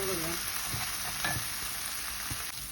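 Minced meat, onion and salt frying in a pan, a dense continuous sizzle with a few soft stirring knocks, close and loud with no voices.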